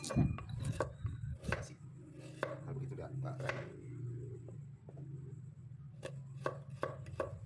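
A knife slicing half a carrot into thin toothpick-like strips on a board, a series of crisp close chops in uneven rhythm, with a voice talking between some strokes.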